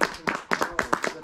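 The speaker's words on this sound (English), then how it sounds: "So a round of applause for Jack." A small group at a stag do claps in a short burst of uneven, close claps, a handful of distinct hand strikes in quick succession.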